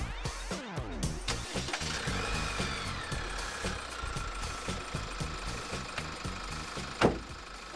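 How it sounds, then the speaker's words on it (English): A vehicle engine idling with an exhaust jack attached to the tailpipe, a steady low rumble with a faint higher whine over it and a single sharp knock near the end. "your engine's running"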